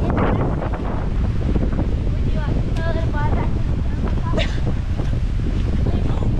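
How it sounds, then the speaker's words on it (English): Strong wind of about 20 knots blows steadily across the microphone by the sea, a constant loud rumble with surf and water sounds mixed in and a few faint voices under it. "Windy today,"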